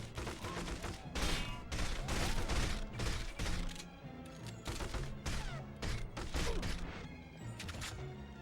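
Gunfire in the video game 007: From Russia With Love, dense, loud bursts of shooting and impacts over a game soundtrack, with rapid shots continuing throughout.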